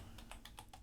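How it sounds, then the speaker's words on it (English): Keys tapped on a computer keyboard while a function name is entered, a run of about six distinct clicks spaced at an uneven typing rhythm over a low steady room hum, close and fairly quiet. "I'm typing in the function name"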